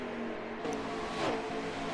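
Race cars in a video game racing series at Las Vegas, a steady engine drone with a car passing and revving up midway.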